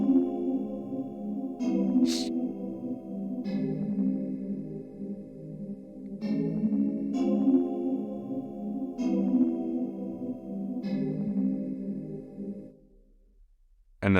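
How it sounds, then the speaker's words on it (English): An early-90s synth one-shot sampled into a UK garage break and played at different octaves, giving a continuous run of warm harmonic stabs and held chords with a few sharp high accents, fading out near the end. "just a one-shot sample, played in different octaves, changes up throughout the break"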